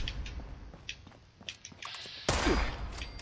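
Plasma weapon shots from an Enclave version of a gun in the video game Fallout 76, a couple of sharp bursts, the last one loud and broad, against faint game background noise.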